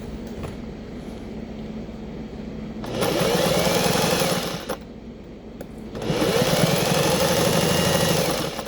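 A sewing machine stitches a McCall's M8090 garment in two sustained runs of steady mechanical whirring, separated by a short pause, close and fairly loud with no talking.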